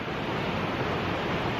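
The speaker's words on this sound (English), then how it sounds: "Got my first creek here." A mountain creek flows on a winter hike in the Adirondacks' MacIntyre Range, a steady broadband rush of water, close and fairly soft, with no voices.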